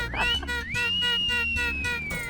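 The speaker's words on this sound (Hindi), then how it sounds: "आप हमको देख के सीटी मार रहे हैं" A person whistles at someone, a sharp rising whistle followed by a long sustained tone over a dense, loud background of music and ambience.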